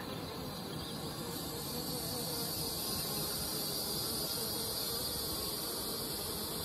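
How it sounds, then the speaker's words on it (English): A mass of honey bees bearding outside a hot hive hums in a continuous, even drone, close up and unbroken, with no voices over it. "bearding in the heat"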